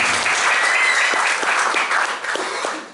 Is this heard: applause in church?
yes